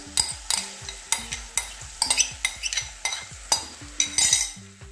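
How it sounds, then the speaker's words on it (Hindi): Spiced yogurt is stirred in a pan over a low flame for Kashmiri dum aloo, with repeated scraping strokes of a utensil and light metallic clinks in a steady rhythm, close and clear, with no talking. "और लगातार चलाते हुए हम भूनेंगे।"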